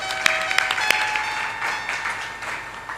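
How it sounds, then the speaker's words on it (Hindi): Crowd applause at a satsang, a steady wash of clapping from many hands with a few sharper claps standing out, lasting a few seconds with no talking. "ताली बजा दीजिए"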